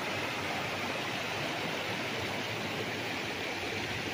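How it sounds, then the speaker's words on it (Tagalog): Steady, full rush of flowing river water beside a resort in Liliw, Laguna, Philippines, close and continuous with no breaks, no voices. "tunog ng tubig na umaagos eh"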